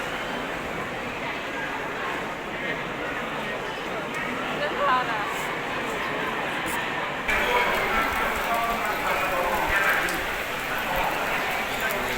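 Rain pours steadily during a military conscription red and black card draw in Khu Mueang district, Buriram, Thailand, a dense constant hiss that grows heavier partway through, with voices underneath.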